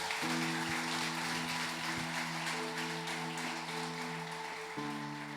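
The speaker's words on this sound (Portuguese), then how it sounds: "Dê uma salva de palmas para o Senhor" A church congregation applauds during a celebration worship service, a steady wash of clapping blended under sustained keyboard chords that shift partway through.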